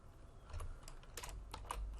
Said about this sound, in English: let's just type it out manually